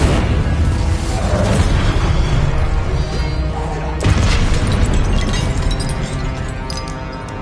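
Hogwarts Legacy's Incendio fire spell roars as a loud, dense, crackling rush of flame, sustained throughout, with a sharper burst punching in midway.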